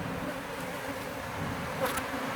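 Honey bees hum in an active hive, a soft, continuous buzz heard up close at low level, with a few individual bees whining past briefly near the end.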